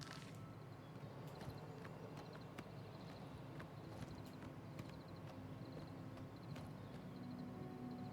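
Horse hooves clip-clop steadily in Oblivion Remastered, a soft, even rhythm of footfalls sitting low under a constant game ambience, with faint tonal chimes on top and no talking.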